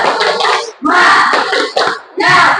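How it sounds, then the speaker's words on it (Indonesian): Eighth-grade students in a junior high classroom clap a rhythmic spirit clap together in three loud bursts separated by short pauses, with voices chanting along. "Tepuk semangat dulu ya."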